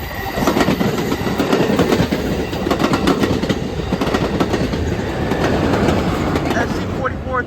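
An Amtrak Capitol Corridor train, number 544, rolls past eastbound toward Sacramento led by cab car 8302 and locomotive 2105, a loud, steady rumble with rhythmic clickety-clack of wheels over rail joints and a brief wheel squeal near the end.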